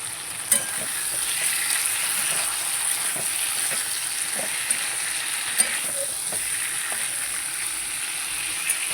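Chicken pieces with spices and Kashmiri chilli frying in oil for a home-style Bengali chicken curry with potatoes: a steady, close sizzle with occasional scraping stirs and small pops, no voices.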